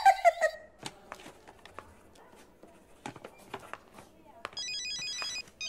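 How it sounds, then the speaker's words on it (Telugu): A mobile phone ringing inside a hospital ward, its bright electronic ringtone bursting in loudly near the end after quieter room sounds and scattered footsteps and knocks. "ఎవరది వార్డులో ఫోన్ పెట్టుకుంది?"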